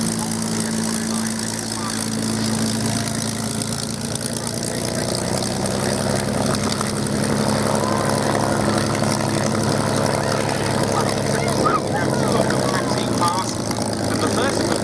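A Rolls-Royce Merlin-engined warbird, a Spanish post-war variant, taxis out with a continuous loud propeller drone and engine rumble, steady and near, while people talk over it.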